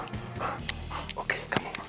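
A hunting dog out on an ibex hunt pants rapidly and close by, with quick rhythmic breaths and a few small whimpers, carrying on steadily with no talking.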